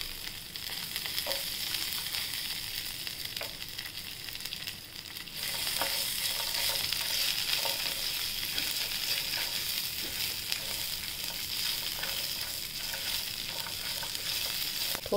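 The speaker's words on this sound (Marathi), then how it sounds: "लसूण हे थोड्याशा तेलात परतून घेऊया." Garlic sautéing in a little oil, a steady broadband sizzle that swells louder partway through with faint scraping stirs, no voices.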